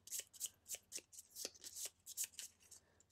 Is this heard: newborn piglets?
no